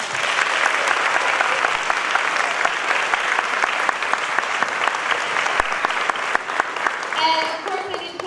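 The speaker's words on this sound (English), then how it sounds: "I'd like to give them a big round of applause" Big round of applause from an audience at a school music-education event, loud continuous clapping throughout, tapering slightly near the end as a few other sounds poke through.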